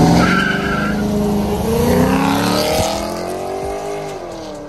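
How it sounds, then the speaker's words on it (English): An Audi launches hard in a race against a Camaro SS at a car meet in Colorado, tires skidding and engine roaring loudly up close, the pitch climbing as it pulls away and fades slightly. "That damn Audi be taking off, boy."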